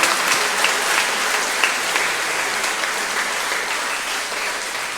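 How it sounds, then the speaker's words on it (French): A church congregation applauds a young drummer after Sunday Mass, steady dense clapping that fills the space for the full stretch, loud and close without a break. "Applaudissez-le."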